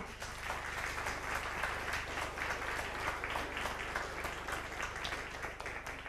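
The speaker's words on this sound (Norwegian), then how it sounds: "En god klapp til de." An audience applauds at a benefit concert in Norway, a steady, dense patter of many hands clapping throughout at even strength, heard from a distance in a hall.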